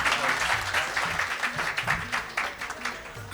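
Lively applause fills the hall at an Urdu mushaira as a poet is called to the stage, steady clapping from a sizable crowd with no voices over it.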